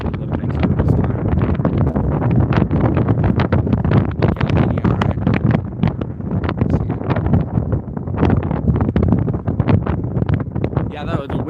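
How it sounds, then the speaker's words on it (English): Strong wind buffeting an outdoor microphone during a shortwave radio session, a constant loud rumbling roar with gusty flutter throughout. "Yeah, the wind picked up all of a sudden. The wind is really picking up"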